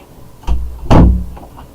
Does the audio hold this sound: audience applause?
no